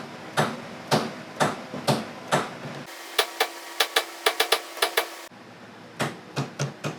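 A hammer beats a workpiece down onto a parallel clamped in a machine vise, before a collet is set. Sharp metallic taps come close, in irregular rhythm, about twenty blows in quick bursts.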